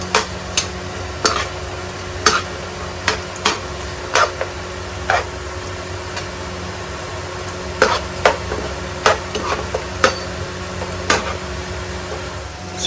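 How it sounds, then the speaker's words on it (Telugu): Paneer is tossed through dragon-style sauce in a pan, with sharp utensil clinks and taps against the pan landing at irregular intervals over a soft background sizzle. No one talks. "ఇప్పుడు మనం ఎంచిపెట్టుకున్న పన్నీర్ వేసుకొని టాస్ చేసుకోవాలి"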